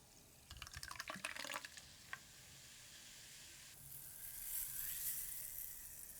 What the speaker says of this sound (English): I'm going to be pouring this beer in my awesome Bud Light orange glass that I have.